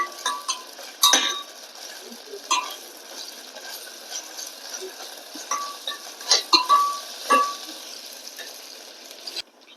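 Onion with ginger-garlic paste sizzling softly in a pan while being sautéed, with a few metallic clinks of a spoon stirring against the pan at intervals.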